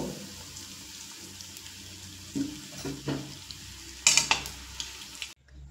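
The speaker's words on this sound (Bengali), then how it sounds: "আর একইভাবে বাকি চিংড়ির চপগুলো ভেজে নেব" Shrimp chops frying in oil on high flame, a quiet sizzle under a few louder clatters and scrapes of a utensil, ending abruptly.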